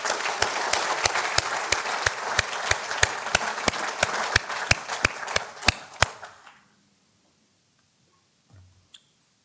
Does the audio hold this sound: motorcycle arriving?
no